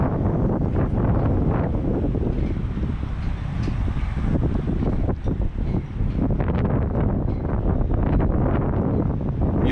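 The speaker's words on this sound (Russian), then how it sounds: "А здесь ветерок обдувает." Strong wind buffets the microphone at the Verkhny Lars border crossing between Russia and Georgia, a loud continuous low roar with gusty swells throughout, no talk heard.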